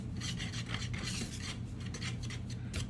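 Hands rub empanada dough into fine crumbs, giving a continuous close, dry rasping and rustling with rhythmic strokes and no talk.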